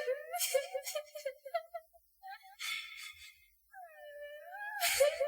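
A mournful, sad crying wail drifts down from the top floor of a dormitory block at night, rising and falling in long wavering moans with breaks between them, fairly clear and unaccompanied by talk.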